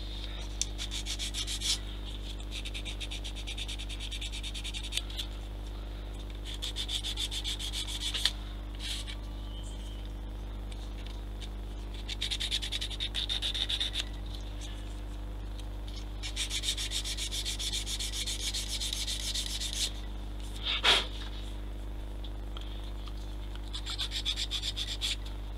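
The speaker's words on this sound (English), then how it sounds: "I'm going to spend most of the time sanding." Repeated sanding strokes rasp against a model railroad track in bursts, with pauses between, over a steady low electrical hum.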